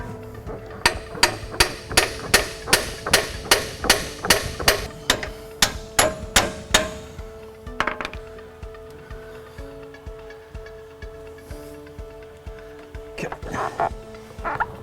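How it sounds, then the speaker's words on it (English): A hammer taps a polyurethane bushing of a track bar into its pocket on a 2010 Dodge Cummins truck: a steady run of about a dozen sharp metallic knocks, then scattered lighter taps and mechanical clatter nearby. "It's gonna take a couple little taps to get it seated back into the pocket."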